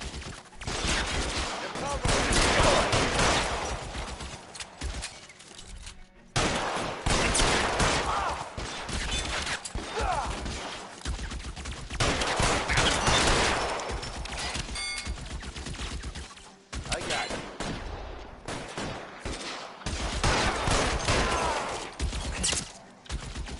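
Shootout gunfire in the L.A. Noire video game, with dense bursts of shots and volleys coming in repeated waves over about twenty seconds, loud and close, with brief pauses between bursts and occasional voices mixed in.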